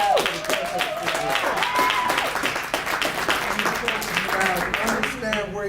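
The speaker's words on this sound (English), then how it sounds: "So let's give a round of applause." An award night audience claps warmly, a busy crowd patter mixed with cheering voices and a few whoops rising over it, sustained throughout.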